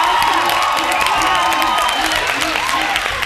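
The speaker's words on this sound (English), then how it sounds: "A round of applause." A studio audience applauds and cheers for the winner of a leadership competition show, with dense clapping and whoops held steady and loud throughout.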